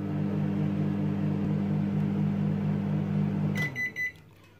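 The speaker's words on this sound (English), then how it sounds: "And bang it back in microwave." A microwave oven hums steadily at close range, then shuts off, followed by a few short electronic beeps.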